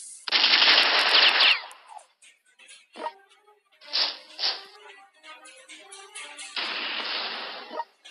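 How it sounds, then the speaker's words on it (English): Artillery fire on a city in the strategy video game European War 6, heard as several loud bursts of booming and crackling separated by short pauses, with smaller shots and clatter between them. "let's use artillery to target to this city under targeting."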